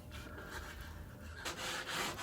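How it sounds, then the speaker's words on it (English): Rhythmic scratchy rubbing of 60-grit sandpaper backed by a foam block on wooden boat hatches, back-and-forth strokes close by, growing louder and harsher toward the end, with no talking. "I backed up the 60 grit sandpaper with a foam block."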